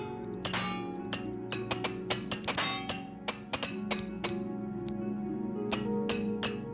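Repair hammer striking armor in the game Oblivion Remastered, a rapid irregular series of sharp metallic clinks ringing out over a low steady background hum.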